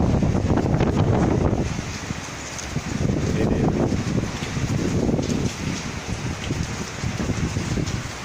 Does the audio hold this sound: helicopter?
no